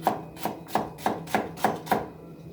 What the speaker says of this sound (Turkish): O yüzden 3 tane soğan doğruyoruz.